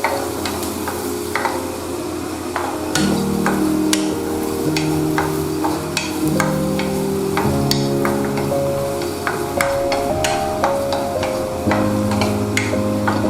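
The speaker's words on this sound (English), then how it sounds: "And then I'm going to put in the chopped garlic. And I'm going to be stirring it around for a while." Chopped garlic sizzles steadily in butter in a pan and is stirred with scraping taps throughout, under steady background music, while making a paneer focaccia sandwich.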